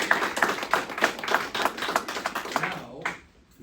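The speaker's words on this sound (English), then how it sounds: "To the teachers in the room, I want to show of applause." Teachers in a room at a charter schools bill signing give scattered, modest applause, a few distinct claps repeating for about three seconds before fading out.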